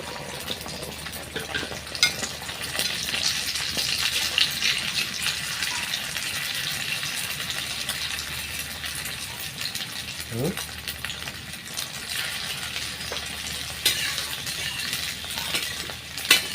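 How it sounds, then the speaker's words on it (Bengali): Eggs frying in oil in a village kitchen pan, a steady soft sizzle and crackle running throughout with occasional faint clinks. "যদি এখন ডিম ভাইজা নিব, দিয়ে কত তেল দেয়?"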